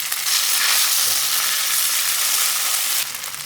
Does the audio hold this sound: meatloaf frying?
yes